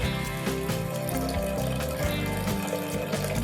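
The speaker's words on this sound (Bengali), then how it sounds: "এবার আমি জল দিয়ে দেবো।" Water pours steadily and continuously into a pressure cooker holding boiled lentils, a close, even splashing rush with no talk.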